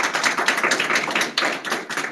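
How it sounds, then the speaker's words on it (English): A small audience at a retinoblastoma research symposium panel applauds a speaker, giving steady, moderately loud clapping from a modest group that continues evenly throughout. "Let's give Michelle a round of applause."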